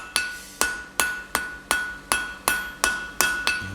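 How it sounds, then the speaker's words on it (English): A blacksmith's hammer strikes a hot steel bar on an anvil, working its corners down toward round, with nine evenly spaced, ringing metallic blows in quick steady rhythm, loud and close with no talk. "run your hammer down the full length of the bar"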